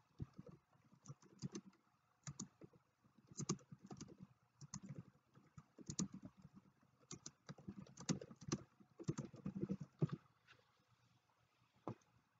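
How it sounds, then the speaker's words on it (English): Typing on a computer keyboard, heard as faint, irregular clusters of soft key clicks spread across the whole stretch with no talking. "let me type."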